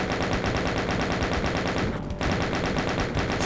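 Continuous rapid-fire gunfire from enemy guns in the video game Doom II, a loud, dense machine-gun-like rattle that barely pauses before resuming.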